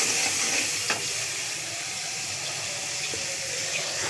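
Turmeric frying in a pan crackles and sizzles steadily after a splash of water goes in, with a soft hiss and a couple of faint scraping stirs, no voices.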